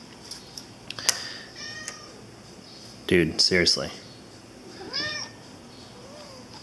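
A pet cat named Ruby meows repeatedly indoors near an electronics workbench. Several short, insistent meows come close to the microphone, mixed with a person talking to it and a few soft clicks and thumps.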